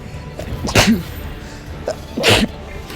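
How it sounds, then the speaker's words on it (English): Two sharp sneezes, each a sudden burst of breath, about a second and a half apart, close and fairly loud. "Oh my god, I need to sneeze."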